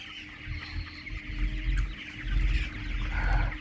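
Many chickens cluck and murmur together in an enclosed poultry shed, a steady crowded chatter with a low hum underneath.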